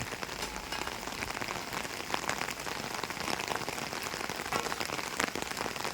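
Rain falling outdoors in cold, stormy weather: a dense, even patter of drops hitting surfaces, steady throughout at moderate loudness, with no voices.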